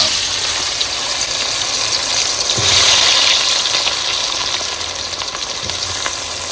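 Close, steady sizzling of potatoes frying in a pan: a continuous bright hiss with faint crackles, no voices.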